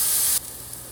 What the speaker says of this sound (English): I'm also going to add some minced garlic to that pan.